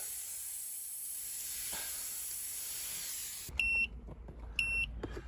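A steady hiss, then after it cuts out, two short bursts of high electronic beeping from a tire pressure monitoring system's missing-sensor alarm, with some clicks and handling noise between them.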